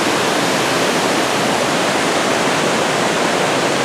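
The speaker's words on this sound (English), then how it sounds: "we can get the waterfalls on the right" Waterfall in Umpqua National Forest roars as a dense, steady, loud rush of falling water, close and unbroken.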